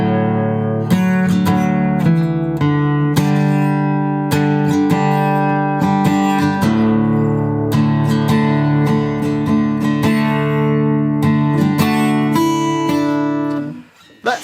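Acoustic guitar strumming a song: rhythmic chord strums ringing close and loud for about fourteen seconds, then cutting off abruptly at the end, with no talking.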